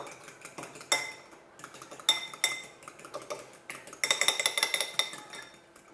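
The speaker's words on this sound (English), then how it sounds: "And whisk it up." An egg being whisked in a bowl for homemade burger mix: quick bursts of rhythmic clinking as the utensil strikes the bowl, each run separated by brief pauses, close and fairly crisp.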